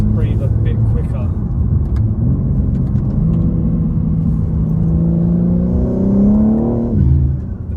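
BMW G80 M3 with an aftermarket intake, a loud deep engine drone building steadily in pitch through the low rev range before dropping off, heard close from inside the car with a faint voice underneath.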